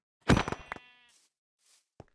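A single Minecraft SkyFactory sheep gives one loud, close, wavering bleat, followed by faint soft clicks and a brief tap.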